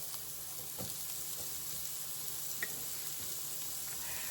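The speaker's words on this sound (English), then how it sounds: "you're going to crumble that into your skillet" Crumbled sweet or hot Italian sausage frying in a skillet gives a faint, steady sizzle with a few soft stirring clicks, no voices over it.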